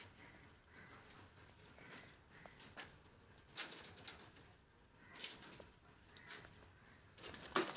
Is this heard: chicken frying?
no